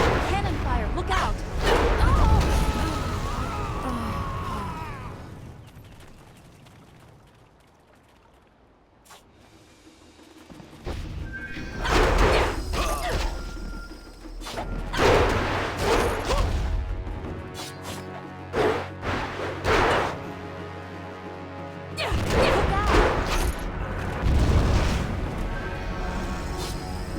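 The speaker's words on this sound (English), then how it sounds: "Cannon fire! Look out!" Cannon fire in the Jade Empire video game sounds as several heavy booms and crashes arriving in bursts, with loud impacts separated by quieter stretches and game dialogue and music underneath.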